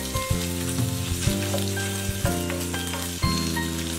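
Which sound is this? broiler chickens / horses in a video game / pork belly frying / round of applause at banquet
pork belly frying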